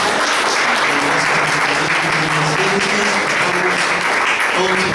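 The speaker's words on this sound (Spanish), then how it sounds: "un aplauso para el doctor Vélez Ibáñez" A lecture audience at a science academy event breaks into sustained applause, dense and loud throughout, with faint voices and hums of the crowd underneath.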